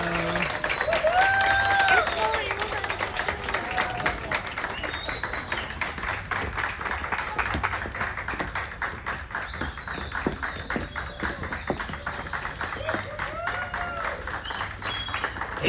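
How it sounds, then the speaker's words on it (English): Applause and cheering from guests in a restaurant venue on the Disney Treasure cruise ship, moderately loud and continuous, with music and voices running underneath. "So let's please give a round of applause"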